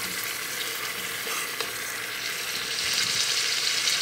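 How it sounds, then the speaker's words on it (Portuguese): Chicken cream with scallions sizzles and crackles steadily in a hot pan, with soft scraping of stirring underneath, close and continuous, no talking. "Vou mexer mais um pouco aqui"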